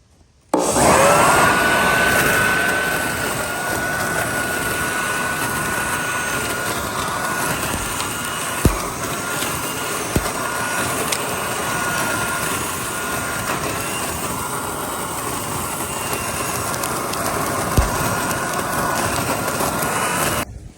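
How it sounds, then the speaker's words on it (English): Electric leaf shredder with an internal blade steadily chewing dry leaves and blowing the shreds into a collection bag, a continuous loud whirring grind with a few brief sharp ticks of debris, running alone without talk. "There's a blade in here, and then it puts all of the shredded leaves into this bag."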